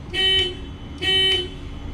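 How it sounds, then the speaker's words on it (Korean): An emergency horn inside the cargo box of a Kia Bongo 3 one-ton low-floor box truck sounds twice, loud and close, each honk about a quarter second long and about a second apart. "이게 비상 빵빵이 스위치예요"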